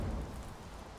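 Steady rain falls in Minecraft modded with HBM's Nuclear Tech Mod, a soft, even wash of downpour noise that stays faint and unbroken throughout.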